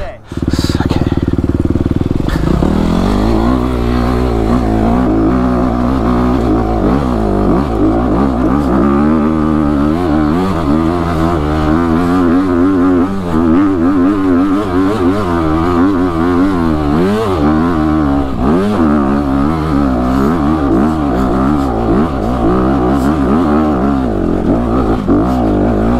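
A dirt bike engine revs hard and loud while climbing a steep hill, the pitch wavering up and down continuously as the throttle is worked, close and dominant throughout.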